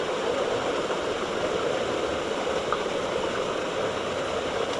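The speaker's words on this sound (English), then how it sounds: "That waterfall was like finding a oasis in a desert." Waterfall flowing during a sunny mountain trek in Karnataka's Kudremukha area, a continuous broadband rush of falling water, steady and fairly loud, with no voices over it.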